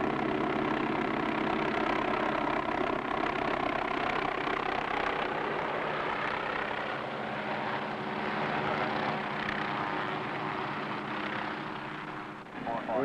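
A firefighting helicopter drones steadily at a waste management plant fire, drawing water from a milling pond, with a low rotor rumble, fairly close and loud, easing off slightly toward the end.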